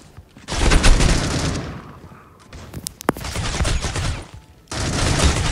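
Gunfire in the mobile shooter Critical Ops, including a quick headshot with a revolver: loud bursts of shots in two dense stretches split by a quieter gap with a single sharp crack, then firing resumes.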